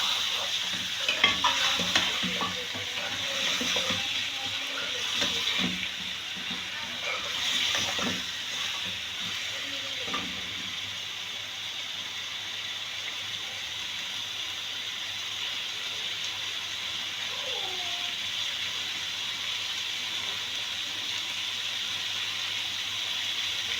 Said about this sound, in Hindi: ये मटन है 1 kg से ज़्यादा ही है। इसको हम 3 से 4 मिनट इस तरह भूनेंगे।